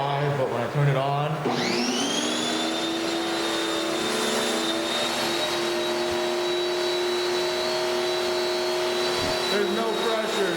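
Broken power washer that leaks and builds no pressure, starting up after a brief rattle and then holding a loud, steady motor whine close by for the rest of the clip.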